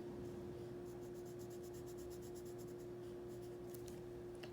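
Pen or marker writing on a paper color worksheet, a steady soft scratching that runs continuously at close range over a faint background hum, with no talking.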